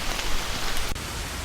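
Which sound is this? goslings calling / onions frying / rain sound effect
rain sound effect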